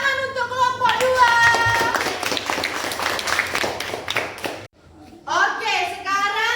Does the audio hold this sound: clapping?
yes